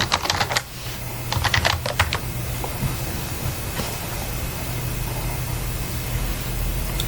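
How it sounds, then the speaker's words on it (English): Fingers tap on a computer keyboard while entering an email address and password, with quick bursts of clicky keystrokes early on, then a few sparse taps over a constant low hum. "enter the email address associated with your account and password"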